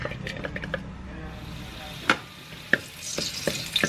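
Garlic fries in about three tablespoons of hot vegetable oil with a steady close sizzle, broken by a few sharp clinks of a utensil stirring the pan, while a voice talks faintly in the background.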